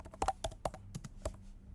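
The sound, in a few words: typing a search on a computer keyboard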